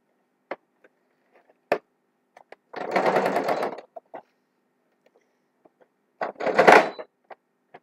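A sewing machine top stitching fabric runs in two distinct bursts, about a second each, with light clicks and handling knocks scattered around them and no talk.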